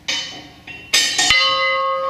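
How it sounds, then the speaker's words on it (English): Old market and fire bell from a market house, rung by hand inside a church museum: a few bright metallic strikes in quick succession, the last one ringing out and sustaining as it fades. "It's the market bell and the fire bell."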